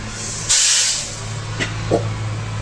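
Black pepper roasting in a pan for homemade kulambu powder, a loud burst of hissing crackle with a few scattered pops afterward, close and alone with no talk.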